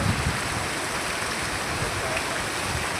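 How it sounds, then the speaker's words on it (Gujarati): Heavy rain pouring down in a village, a dense, steady wash of noise that fills the scene evenly from start to finish without any voices. "ગજબ વરસાદ ચાલુ થઈ ગયો છે"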